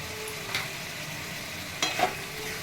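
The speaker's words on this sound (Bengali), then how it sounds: "এবার আমি একটু ভালো করে কষিয়ে নেব।" Mutton being stir-fried with turmeric, coriander and cumin powder: a steady low sizzle with two brief scraping stirs of the spatula against the pan, close and fairly quiet, with no talk.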